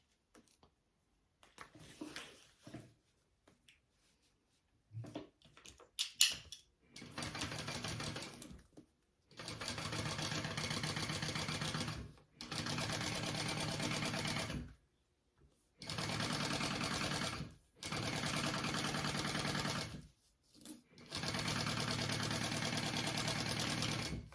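A sewing machine runs in five steady bursts, each a few seconds long, stitching the bottom piece onto a bag body, with short pauses between runs and a few soft handling noises before the stitching starts.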